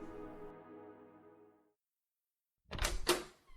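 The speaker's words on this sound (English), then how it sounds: "The fucking door swings open." A door swings open with a pair of sharp knocking thuds and a rattle, loud and close, coming after a stretch of a voice speaking, with a short silence in between.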